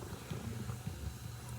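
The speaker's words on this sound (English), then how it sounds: "I'm gonna hear that big purr all over the place." A big cat purrs in a low, rumbling pulse, close but fairly soft, in a short continuous stretch.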